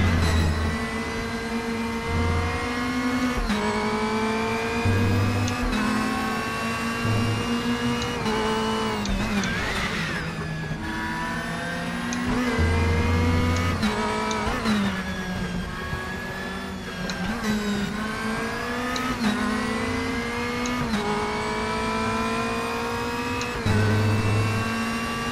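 A DTM BMW race car in the RaceRoom racing game, its engine droning loudly and continuously with repeated revving rises and gear-change dips throughout.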